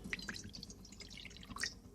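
Water poured from a bowl into a kadai pan while making semolina, a few faint splashy drips and trickles, quiet and close.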